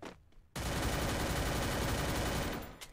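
Sustained rapid gunfire from a battle royale video game's last zone fight, a dense roar of shots lasting a couple of seconds after a quiet start, then fading out.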